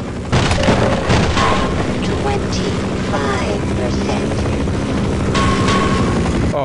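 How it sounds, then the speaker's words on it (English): Explosive booms and rumbling blasts from a rocket launcher in the video game Half-Life, loud and continuous over the game's rumbling ambience, with a voice talking over parts of it. "Got a fucking rocket launcher."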